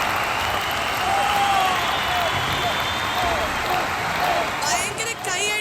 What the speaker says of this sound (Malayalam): ഭയങ്കര കൈയടി ഏറ്റുവാങ്ങി ഇതാ നമ്മുടെയൊക്കെ പ്രിയപ്പെട്ട വിജയ് യേശുദാസ് ഓൺ സ്റ്റേജ്